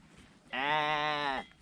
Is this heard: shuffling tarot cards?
no